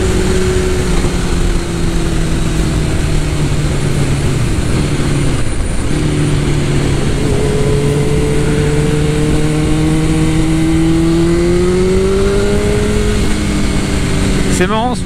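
A 2001 Suzuki GSX-R1000 motorcycle accelerating hard, its engine note rising through the revs with a brief dip at a gear change, then climbing again, close and loud over heavy wind noise while riding.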